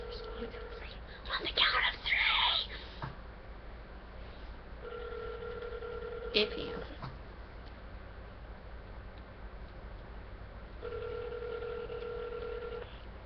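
Phone call being placed, with faint tones and periodic ringback beeps repeating in a quiet room, brief whispering and rustling near the start.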